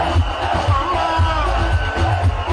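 A dense crowd roars and cheers as a Ugandan musician-turned-politician arrives, continuous loud shouting and whooping over a low rhythmic thumping throughout.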